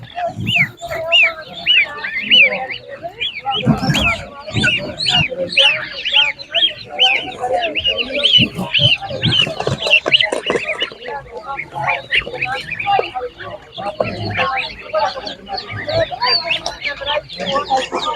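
Geese and other fowl at an animal market honk and cluck repeatedly in close, busy bursts, with people talking throughout.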